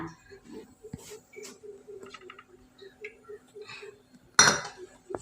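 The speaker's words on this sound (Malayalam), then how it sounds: "ആദ്യം അടുപ്പിൽ ചട്ടി വെച്ച്" A cooking pan is set down on a stove with a loud, sharp clatter near the end, after quieter kitchen clinks and soft background bird coos, while preparing a vegetable stir-fry.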